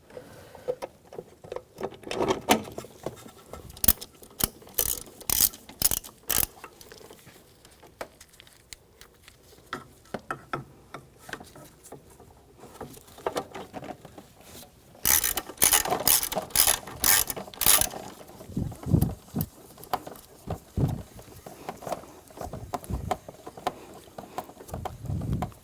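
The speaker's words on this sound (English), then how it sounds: "Get the bolts started behind the airbox." A ratchet tightens bolts behind the airbox of a 2010-2014 Volkswagen GTI 2.0L during a radiator fan motor replacement, giving bursts of rapid, close clicking separated by pauses.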